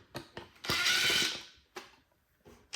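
Screws being removed from an arcade joystick encoder in an Arcade1Up cabinet, heard as a close, loud burst of ratcheting screwdriver clicks followed by a few short separate clicks.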